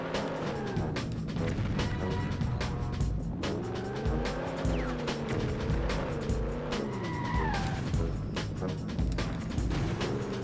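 Video game cars in 007 Racing roar and whoosh past in a steady stream of engine drone, with rising and falling pitch sweeps, a brief tire squeal and a faint siren-like tone over continuous loud game audio.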